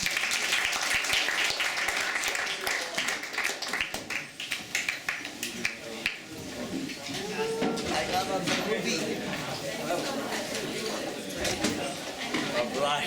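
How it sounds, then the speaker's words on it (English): Loud audience applause at a talk on criminal justice and storytelling, a dense wash of clapping during the first half that thins into crowd chatter and talking. "Let's give it one more round of applause."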